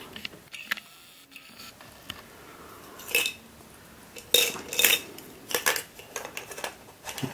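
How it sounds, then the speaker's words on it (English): Light clinks and taps of a small bowl and spoon being set onto a plate, scattered sharp contacts up close with quiet pauses between them. "the object of this is to get the bowl onto the plate and then get the spoon either on the plate next to the bowl or actually in the bowl"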